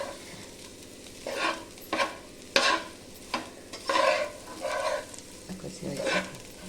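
Banana flower curry is stirred in a pan as it cooks, with a series of soft scraping strokes rising and falling over a low sizzle, fairly quiet and close.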